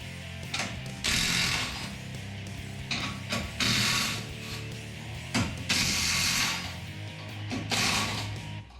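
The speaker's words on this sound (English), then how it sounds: "To speed things up, we're just going to throw it on an impact wrench." An impact wrench removes bumper bolts from a Jeep Gladiator JT, with repeated short bursts of ratcheting, hammering mechanical rattle separated by brief pauses, close and fairly loud.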